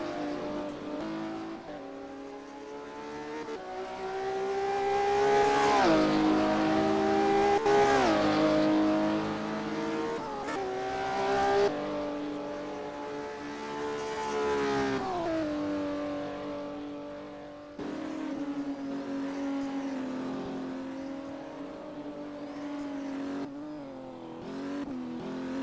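Race car engine from a Classic Porsche Cup sim racing game, revving hard and rising and falling through gear changes for the whole stretch, loud and continuous with brief drops between shifts.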